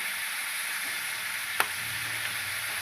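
Tomatoes and green chillies fry in oil in a pan, giving a steady, even sizzle throughout with one sharp click or clatter partway through and no voices.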